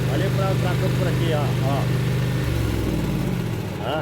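A farm tractor's diesel engine runs steadily with a loud, close, low throbbing idle that drops in pitch and softens near the end, while people talk over it.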